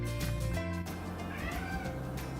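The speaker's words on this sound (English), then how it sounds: "That was my cat." A cat meows a couple of times, fairly close, with a steady background hum and no talking.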